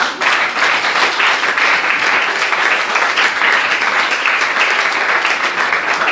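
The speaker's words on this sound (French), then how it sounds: "Applaudissons pour le Seigneur." A church congregation applauds together, a steady, dense wash of clapping that fills the whole stretch without pause and stays loud and even throughout.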